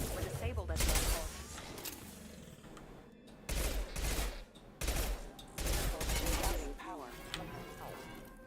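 Auto pistol fire in the video game Mass Effect 2 comes in rapid, loud, rattling bursts, several separate volleys with short pauses, mixed with game noise and some voices.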